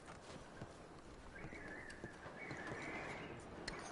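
Horses in the video game Red Dead Redemption 2 shuffle and clop quietly, with a brief whinny rising midway over a faint outdoor background of distant birds.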